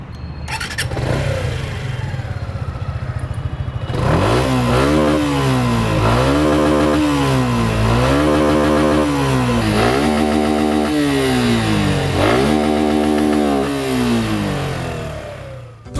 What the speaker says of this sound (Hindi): अब आपको इस बाइक का साउंड सुनाते हैं।